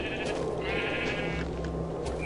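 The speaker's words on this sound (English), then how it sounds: "If I punch a sheep to death, do I actually get the wool?" A sheep bleats in the video game Minecraft, played with the Tekkit Classic modpack. One sustained, wavering bleat sounds clearly over a steady hum of game background noise.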